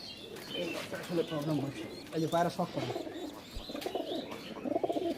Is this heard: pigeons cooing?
yes